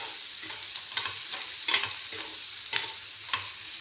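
Onions fry in oil in a pan with a soft, even sizzle, punctuated by a few gentle spatula strokes scraping through them at a relaxed pace, fairly quiet and close.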